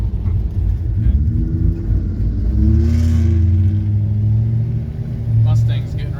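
A Ford Mustang engine revs and rumbles loudly nearby, a deep sustained roar that swells through the middle and again near the end, mixed with road and wind noise.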